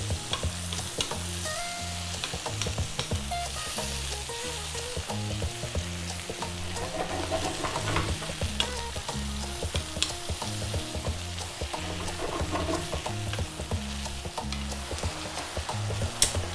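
Fish in black bean sauce stir-fried over high heat, a steady loud sizzle with repeated scraping and tossing strokes in a regular rhythm throughout, no voices.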